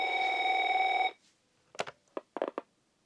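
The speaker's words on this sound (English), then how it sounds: "Okay, there's a phone call." A retro Merlin telephone rings with an incoming call, one sustained electronic bell tone lasting about a second, then a few short clicks and handling knocks follow in a quiet room.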